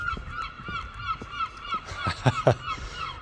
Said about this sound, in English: I live right near the sea, and there is seagulls everywhere